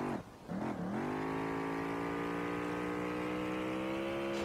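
Engine of an Audi S4 in the racing video game SLRR, a couple of quick revs dipping and rising, then settling into a loud, sustained high drone held steady.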